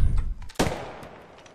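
One sharp, close shot from video game gunfire cracks out loudly, then fades in a rolling tail over about a second, following a dull low rumble.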